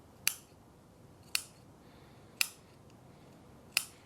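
Four crisp scissor snips cut notches into the rounded fabric collar of a pair of pajamas, each sharp click evenly spaced about a second apart in a quiet room.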